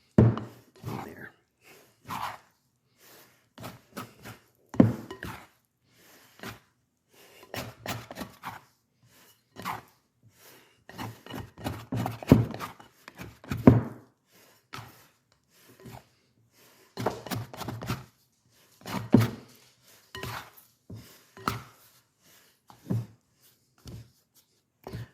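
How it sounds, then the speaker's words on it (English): A wide, handleless rubber scraper mixes dry sourdough ingredients in a bowl, making irregular scraping strokes and soft knocks that come in bursts with short pauses between them, close and fairly quiet. "now I'm going to use this to just mix all the dry stuff in there"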